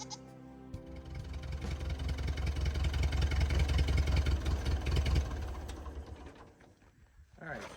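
A Ford 8N tractor engine idles while warming up, a steady low rhythmic chug that swells and stays loud through the middle before fading, with a sheep bleating faintly nearby.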